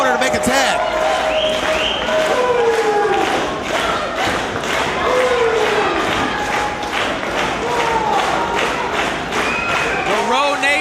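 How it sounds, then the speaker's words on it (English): A packed wrestling arena crowd at the World Gym Arena roars and cheers steadily throughout, with a commentator's voice running over the constant noise. "A standing room only crowd at the World Gym Arena."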